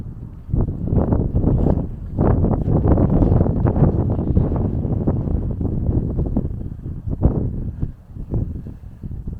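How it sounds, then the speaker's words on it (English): Gusty wind buffets a camp stove and mess kit outdoors on a cold day, low rumbling bursts that rise and fall close to the microphone, loud and irregular without speech. "I use my hand a little bit here to stop the wind blowing in from the side"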